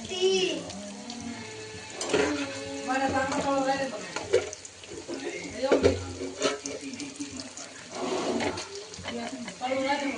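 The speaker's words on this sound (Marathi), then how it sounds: "बघा मित्रांनो, आता आपण वड्या तळायला टाकलेल्या आहेत." Kothimbir vadi pieces frying in hot oil, a steady hissing sizzle running under a person talking throughout, with occasional clinks.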